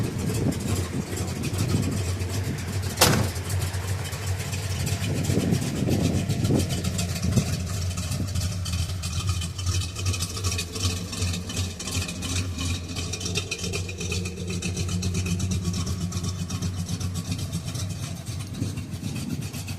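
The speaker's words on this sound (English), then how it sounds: "It's a beautiful running car." A 1967 Dodge Coronet R/T with a 440 V8 idles with a steady, low, rumbling burble, close and continuous for about twenty seconds, with a sharp click early on and light rises in engine note.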